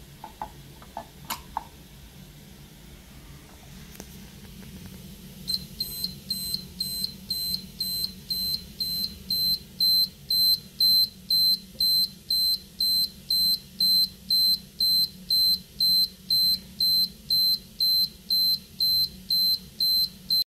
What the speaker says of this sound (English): If your personal dosimeter ever starts beeping like that, just run